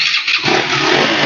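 A loud 2017 KTM Duke 200 motorcycle engine roars steadily, rising from a brief dip into a sustained, raspy rev.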